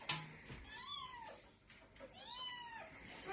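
A stray kitten, stranded on a homestead in Portugal and calling for its mother, gives two drawn-out meows in a row, each rising then falling, close and clear with faint household background.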